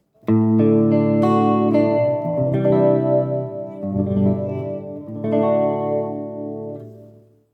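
Electric guitar played through a Joyo Jam Buddy III on its clean Deluxe Reverb amp preset rings out loud, clear strummed chords and single notes that sustain and blend with a spacious reverb tail, with no voices.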